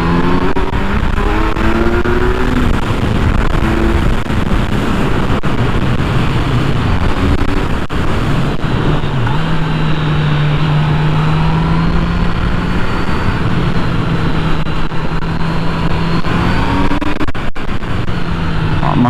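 A 2020 Kawasaki Z900 motorcycle accelerating hard on open throttle, its engine roaring loud and close throughout, with the pitch rising and falling across gear changes.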